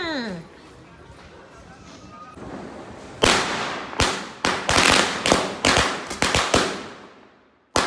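Several loud, sharp firecracker bangs burst in quick irregular succession after a few seconds of quieter background noise, each crack snapping close by, during Diwali.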